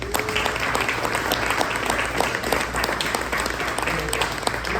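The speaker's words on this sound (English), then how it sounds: "Let's give it a round of applause." A small crowd at an engine build demonstration claps steadily for several seconds, a dense crackle of hands over a low background hum.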